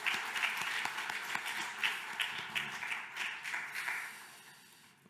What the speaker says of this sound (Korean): 우리 감사로 함께 박수로.